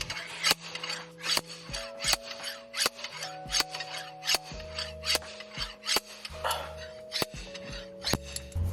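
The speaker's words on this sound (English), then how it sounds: "Now we get the slide hammer." Slide hammer working on a Nissan 240SX during a manual transmission swap, giving a steady series of sharp metallic knocks and scraping strokes about once every half second, close and loud, with no speech.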